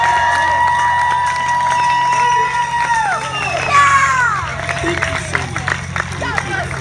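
An Independence Day crowd at Lake Pleasant cheers, whoops and claps loudly after a recital of the Declaration of Independence, with high shouts and children's voices rising above steady applause.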